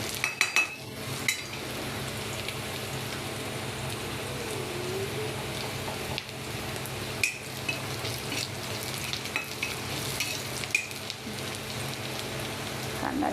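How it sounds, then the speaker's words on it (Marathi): Onion fries in a pan for a fish masala curry, giving a steady close sizzle like light rain, broken by occasional spoon scrapes and stirring clinks. "आता आपण कांदा लाल झाला की मग ह्याच्यामध्ये टमाटा सोडूया."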